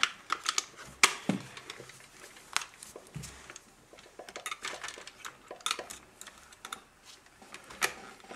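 A plastic battery lid is fitted over AA batteries on a Revell Control toy remote, producing scattered sharp clicks and light plastic clatter, quiet and close, with pauses between the taps.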